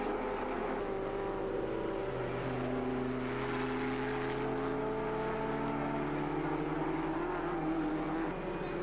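Sports racing cars lap the Castle Combe circuit in England, among them a Davrian Mark 7A, with a continuous droning engine roar that rises and falls as they pass at a distance.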